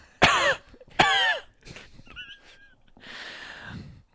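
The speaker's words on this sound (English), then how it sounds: "Cough for me" Two loud, harsh coughs close together, followed by softer throat sounds and breathy noise.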